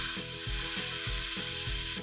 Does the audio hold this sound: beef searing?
yes